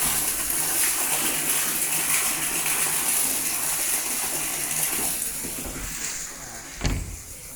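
Water gushing steadily from a 2 hp submersible pump running on a village water-supply system powered by eight 330-watt solar panels, a loud continuous rushing flow with a brief thump near the end.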